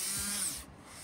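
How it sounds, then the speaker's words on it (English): A small rotary tool with a burr grinding out thin plastic on a 1/200 scale HMS Hood model ship, a steady close high whine that drops slightly in pitch partway through. "That's about as far as I dare go really with the burr."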